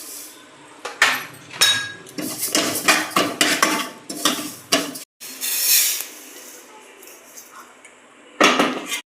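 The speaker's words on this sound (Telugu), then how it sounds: "నువ్వులు వేయించుకోవాలండి." Sesame seeds are roasted in a metal kadai on a stove, with a spatula scraping and clinking against the pan in irregular bursts. After a brief silent pause, the stirring resumes.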